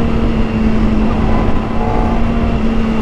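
Kawasaki ZX-4RR sport bike engine without its muffler, revving steadily at high RPM in a continuous loud, close drone, with no voices over it.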